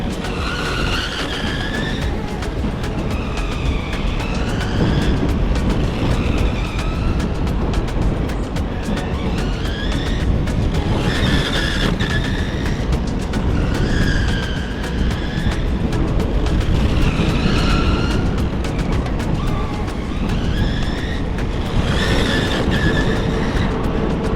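An MJX 10303 Citroen C3 RC car runs laps, its small electric motor whining up and down in repeated rising and falling passes with tire scrubbing, steady and fairly close throughout.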